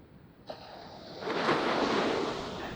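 Ocean surf on a beach rises from a soft hiss into a broad, full wash of a breaking wave, fairly close, steady and moderately loud with some wind, no talking.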